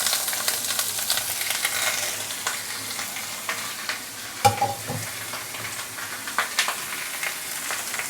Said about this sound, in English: once you start to see the oil started to smoke, we can actually add in the fish